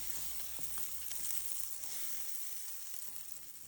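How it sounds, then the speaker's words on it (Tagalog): Butter melts in a pan on a stovetop over medium heat, giving a steady soft sizzle and crackle, close and quiet, with a few faint stirring clicks and no talking. "And then, tunawin po ang butter."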